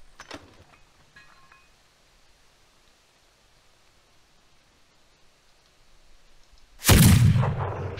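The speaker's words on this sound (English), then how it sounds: "Shoot a couple more cannon shot" In the video game Heat, after a long near-silent stretch with a faint click at the start, a single loud, booming cannon blast erupts and rumbles away.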